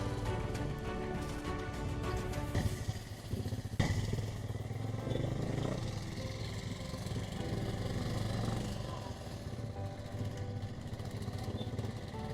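A freshly serviced Stunner motorcycle riding along a road, its engine droning steadily and loudly with a rough, clattering mid-range tone throughout, close to the rider.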